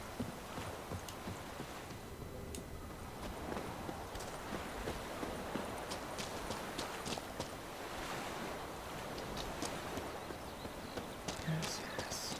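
Horse hooves clip-clop steadily in The Witcher 3, the game's soft footfalls set against a constant bed of wind and distant surf, quiet throughout with no clear voices.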